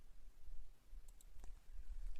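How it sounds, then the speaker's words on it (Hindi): A computer mouse clicks a few times while a Shopify online store is being set up, with three sharp, close taps spaced about a second apart over a low room hum. "ऐड पेज पे क्लिक करता हूँ।"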